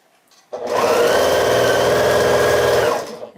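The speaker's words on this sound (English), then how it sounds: "And then I'll sew the sashing rows to these rows that I'm stitching right now." A sewing machine stitches quilt sashing rows in a single continuous run, starting abruptly, humming and whirring at a steady fast pace for about two and a half seconds, then stopping.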